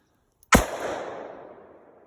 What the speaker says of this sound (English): I'm going to actually destroy these plates with the 357 mag.